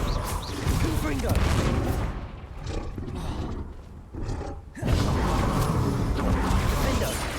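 Confringo spell blasts and combat in Hogwarts Legacy, loud explosive bursts and roaring fire-like rumbles filling the scene, briefly dipping before another forceful blast.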